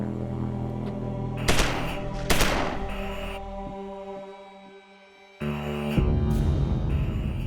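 Sharp gunshot effects from a crime re-enactment: two loud broadband cracks close together, then a brief lull and a further burst of blasts over a low sustained backing bed, with no speech.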